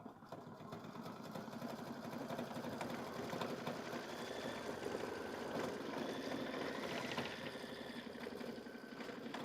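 An embroidery sewing machine stitches a fabric wing appliqué around twice, a quick, even mechanical whir with a rapid needle rhythm that runs on steadily at low volume without any talk.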